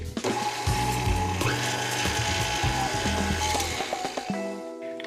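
An electric mixer whirs through cake batter made with vanilla extract, a loud continuous motor drone up close with shifting pitch as the beaters churn, cutting out near the end.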